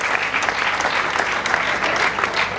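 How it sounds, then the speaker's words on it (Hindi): Dense, loud, sustained applause from an audience at a Dadasaheb Phalke birth anniversary award ceremony, greeting award recipients without a break for the whole stretch. "उतने ही शानदार और जोरदार तालियों के साथ हम इन्हें पुरस्कृत करें।"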